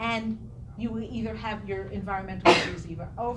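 A single sharp sneeze bursts out mid-sentence during a spoken talk on land-use review, loud and brief against steady speech that continues around it.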